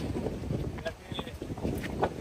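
Wind buffets the microphone in a low, steady rumble at Ipanema Beach in Rio de Janeiro at night, with faint voices and distant sounds mixed in.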